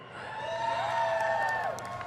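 A BlizzCon convention audience cheers and whoops in a big hall, a sustained mass of voices with rising shouts, moderately loud and steady for about two seconds.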